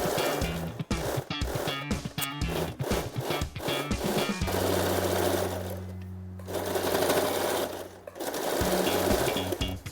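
A sewing machine stitches a finishing seam along the pleats of a Patiyala salwar, running loud and close in steady bursts with short pauses between them, with no talking.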